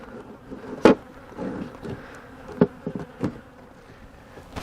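Honeybees droning around a hive infested with small hive beetle larvae, a low steady buzz with several sharper bursts as individual bees fly close past, no voices.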